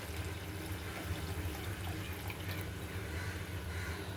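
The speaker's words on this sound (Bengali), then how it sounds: "জল দিয়ে দেব।" Water is poured into a simmering pot while cooking a Bengali bhola fish curry with mustard paste, a steady continuous splashing pour over a low simmering rumble, close and moderately loud throughout.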